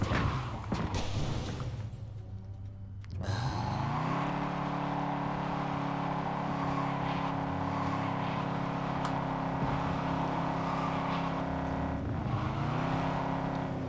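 A car driven in the video game Cyberpunk 2077 drones with a steady engine tone and whir, briefly dipping near the start before settling into a continuous, fairly loud hum with a slight shift later on.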